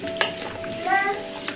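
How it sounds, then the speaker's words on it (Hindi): Tinda, round gourds, frying in ghee in a pot for a tenda chicken curry: a steady close sizzle with stirring scrapes and a few sharp clinks across a short stretch, no talk. "3 टेंडा हम इस घी में डायरेक्ट डालेंगे। इसको पहले हम इंशाल्लाह फ्राई करेंगे।"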